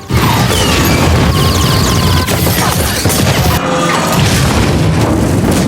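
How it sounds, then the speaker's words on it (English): A dense, loud barrage of booms and crashes from an oversized Gatling gun firing at a wrecked ship, with continuous rapid blasts and rumbling debris throughout, no voices. "She grabbed an oversized Gatling gun and unleashed a barrage of fire at the wrecked ship."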